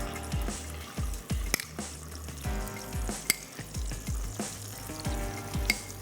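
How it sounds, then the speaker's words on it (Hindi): Thai red curry paste fries in a hot pan, giving a soft continuous sizzle broken by repeated stirring scrapes and small wet squishes at a fairly regular pace, close by and with no talking. "2 से 4 टेबल स्पून करी पेस्ट और इसको भी हमने अच्छा सा भून लेना है"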